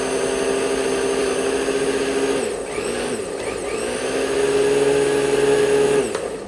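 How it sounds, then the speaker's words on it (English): A new blender whirs steadily with a small amount of onion inside, its loud motor drone holding a constant pitch, briefly dipping partway through and then cutting off near the end. "And new blender goes"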